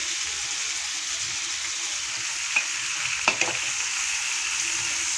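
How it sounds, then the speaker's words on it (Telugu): Onions fry in a pan for an Andhra dry fish and brinjal curry, a steady broadband sizzle holding throughout with a few brief clicks of stirring near the middle, no talk. "ఉల్లిపాయలు అయితే వేపుతున్నాను కదా"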